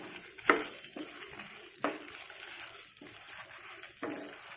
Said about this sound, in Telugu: టమాటాలు మూత లేకుండా మగ్గబెట్టుకోవాలండి